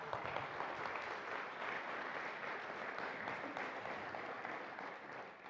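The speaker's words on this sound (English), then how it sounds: "Give a big round of applause for Epic." Sustained applause from a Baptist church congregation at a Sunday morning service, a dense, even clapping throughout that tails off a little at the close.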